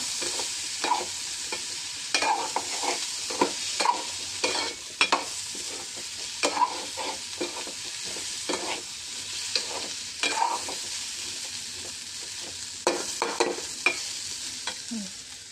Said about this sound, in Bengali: সবজিটা ভাজবো।